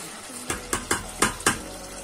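Beef frying in a pan for spaghetti, five sharp regular clanks of a utensil against the pan over a low steady sizzle, close and fairly loud.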